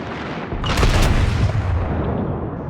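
Secondary guns on the Tier 7 US battleship Colorado fire in World of Warships, a dense burst of booming shots around one second that rolls into a sustained rumble.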